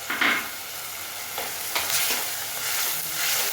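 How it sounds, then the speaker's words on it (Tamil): Garlic, green chilli and onion-tomato paste frying in oil with chilli powder, turmeric and salt for an anchovy fish curry; a continuous close sizzle with a few soft stirring scrapes and no talking. "அந்த பேஸ்டையும் சேர்த்து நல்லா எண்ணெய் பிரிகிற அளவுக்கு வதக்கிடலாம்"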